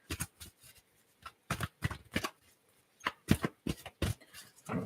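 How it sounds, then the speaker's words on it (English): Quick crisp riffles and snaps of playing cards being shuffled nearby, coming in uneven bursts with short pauses between. "Let me shuffle them."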